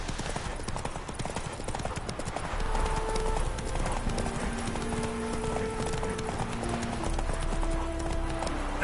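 A horse gallops in The Witcher 3 video game, with steady, rapid hoofbeats running throughout over soft background music tones.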